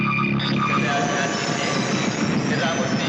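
A super express train rolls through a railway station, its steady mechanical rumble and rattling wheels filling the air, with faint squeals and voices mixed in.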